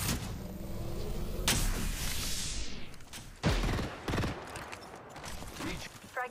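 Enemies shooting in Apex Legends, quick cracks and a fast volley amid mechanical clatter and game effects, moderately loud, under occasional voices.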